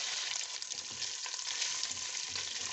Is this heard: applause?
no